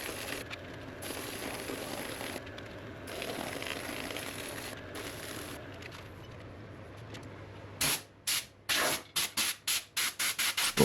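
Compressed air blasts into the sap pores of a redgum burl bowl on the lathe, a long hissing rush followed by a string of short, sharp puffs of air, close and loud.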